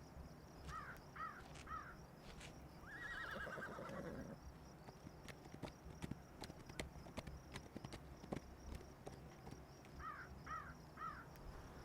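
Horses clip-clop with sharp hoof knocks while a horse whinnies at a distance and crows caw now and then, all faint in an outdoor setting.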